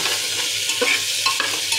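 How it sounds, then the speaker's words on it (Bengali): Tomato stirred into vegetables frying in a pan, a close continuous hissing sizzle with soft scrapes and taps of a spoon at irregular moments. "দিয়ে এটাও কিন্তু এর সাথে ভালো করে মিশিয়ে নাড়াচাড়া করে নেব।"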